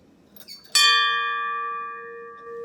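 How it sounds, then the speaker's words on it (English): A single bell is struck once for award winners at a high school senior academic awards, giving a loud bright clang with a long ringing decay that hangs on for about two seconds, with faint room murmur before it. "And now we ring the bell for the two of you."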